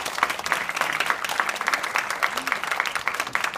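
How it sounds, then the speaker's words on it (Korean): Audience applause at a Korean memorial talk event as guests are invited onstage, steady moderate clapping from a crowd in a hall for a few seconds. "박수를 부탁드릴게요."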